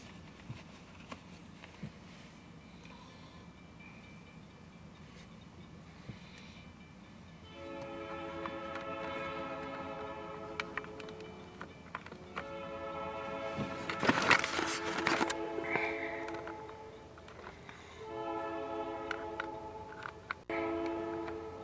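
A freight train on the Eastern 740 job passes under a bridge, sounding several long, loud chorded horn blasts over a steady rumble of rolling rail cars.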